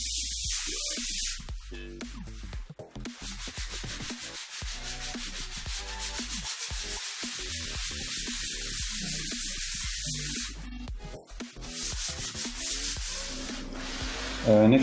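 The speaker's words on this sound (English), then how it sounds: "just going to sand this nice and flat in a circular motion where possible" Sandpaper rubs an MDF board in circular motions, a steady close scratchy swishing that runs continuously with a couple of brief pauses.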